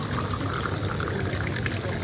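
Water pours steadily into a glass to refill it, a dense, continuous rush lasting about two seconds at close range.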